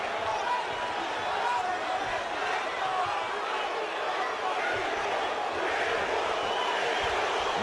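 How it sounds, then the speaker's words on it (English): Boxing crowd in a San Antonio arena roaring steadily for Cruz late in a fight, a dense sustained wash of cheering and shouting with no breaks, broadcast commentary faintly mixed under it. "The crowd in San Antonio trying to will Cruz to victory."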